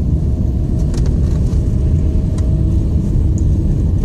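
Inside a Hyundai HB20 with its 1.0 engine running, a steady, loud low rumble fills the cabin with faint small rattles on top and no talk.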